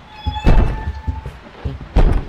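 Heavy door thuds in the horror video game P.T., several loud dull slams and knocks in quick succession with a faint tonal hum behind them.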